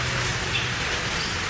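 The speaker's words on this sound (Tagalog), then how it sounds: "Lumakas na bigla yung ulan." Heavy rain pours down in a dense, steady hiss that holds evenly throughout, close and loud, with no voices.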